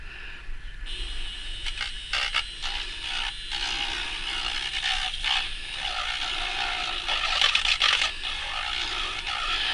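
A small handheld espresso frother whirs in a pot of soap batter as neon pink colorant is blended in, a close, continuous, buzzy mechanical hum with faint clicking and rattling throughout, and no speech.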